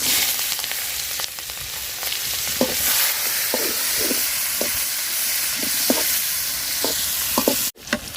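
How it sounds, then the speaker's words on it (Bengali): Onion and chili sizzle steadily in hot oil, with a constant close frying hiss broken by short scraping stirs every second or so, ending abruptly near the close. "তেলে পেঁয়াজ আর মরিচ দিয়ে দিলাম"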